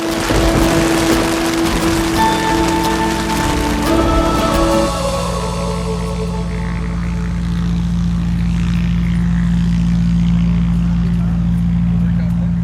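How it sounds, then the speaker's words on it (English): Propeller airplane engines drone loudly at the Oshkosh fly-in campground, one passing and fading after a few seconds while another steady engine hum holds on underneath. "At Oshkosh, you wake up to the sound of airplanes."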